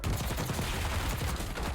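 Enemy gunfire in the video game Warzone, a dense continuous rattle of rapid shots filling the whole moment, loud and steady with no talk over it.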